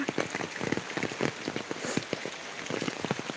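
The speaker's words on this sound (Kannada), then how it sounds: "ಮಳೆ ಮಳೆ ಮಳೆ" Rain patters steadily on a surface, a dense, uneven stream of close drops with no voices.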